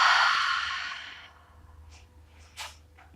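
A long, breathy exhale during a yoga session fades out slowly, followed by a quieter breath sound, close and unaccompanied by talk.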